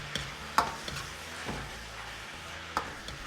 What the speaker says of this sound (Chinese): 继续翻炒均匀